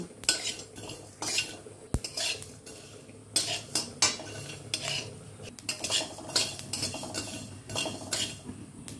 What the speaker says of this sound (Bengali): কালো সর্ষে, কিছুটা ধনে। এবার এগুলো একটু ভেজে নেব।